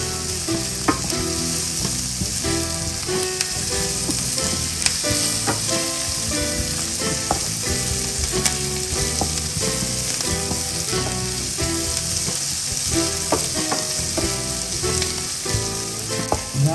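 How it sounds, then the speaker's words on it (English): Garlic sizzles and crackles steadily in a hot pan while being stirred as a base for coq au vin, a French braised chicken dish, a loud continuous frying hiss with occasional scraping clicks throughout. "And now we're going to add the garlic. And we'll stir that for a couple minutes,"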